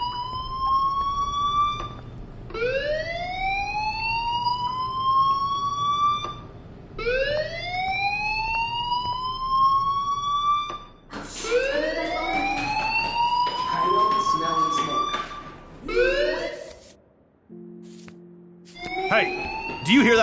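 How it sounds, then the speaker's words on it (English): Fire alarm ringing through a school in the Life is Strange video game, a loud repeating rising electronic whoop in steady cycles, briefly cut off near the end before resuming. "do you hear that fire alarm?"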